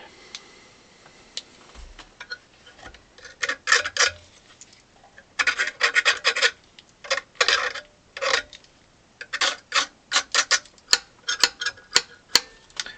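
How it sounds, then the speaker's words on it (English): A tool scrapes grime off the bass arm of a Silvio Soprani 48-bass accordion under restoration, coming in close, dry bursts of quick rasping strokes, denser midway and then sharper, more separate clicks near the end. "So the arm itself needs a bit of a clean off, so I'm just going to give that a little bit of a scrape."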